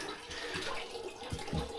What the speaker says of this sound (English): I'm filling up some hot water